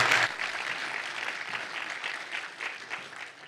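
Conference audience applause for a speaker at a Rust programming conference in Wellington, New Zealand, a full burst of clapping that starts strong and gradually thins out.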